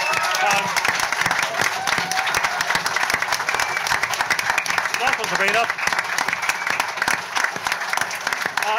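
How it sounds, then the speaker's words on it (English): Audience applause for a young political contestant on a comedy panel show, steady dense clapping throughout with cheering mixed in, and a presenter talking over it. "round of applause"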